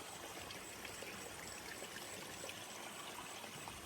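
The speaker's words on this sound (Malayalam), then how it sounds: "ആ വയലിനെ അടുപ്പിച്ച തോടുകളുണ്ട്." A small stream runs beside a rice field at a resort in Wayanad, giving a steady, even rush of flowing water with a soft trickle and no talking.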